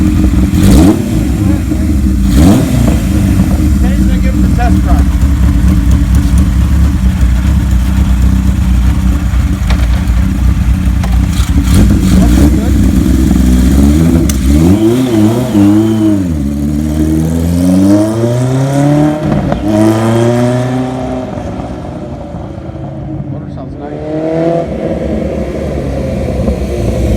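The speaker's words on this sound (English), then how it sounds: "Everything works. Motor sounds good." A 1977 Kawasaki KZ1000A motorcycle engine with 9,000 miles runs close and loud, idling roughly and then revving up and down repeatedly in rising and falling sweeps toward the end.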